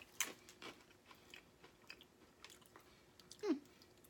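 Quiet, close crunching of a barbecue-flavoured Thai noodle snack of tiny ring-shaped pieces, a few scattered crisp bites and chews in near silence, with a sharper crunch near the end.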